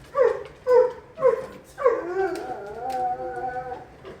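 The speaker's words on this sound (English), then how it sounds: "That's why the dogs are reacting." Dogs cry out in short bursts, then draw into a long whimpering howl, several close, plaintive calls reacting to an injured cat.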